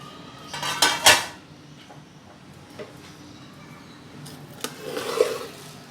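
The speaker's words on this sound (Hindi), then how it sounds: "तो चलिए इसको खोल के चेक कर लेती हूँ मैं।" A lid is lifted off a pot of Sindhi chicken pulao rice to check it, giving sharp metal clanks and clatters followed by quieter handling and a few more utensil knocks.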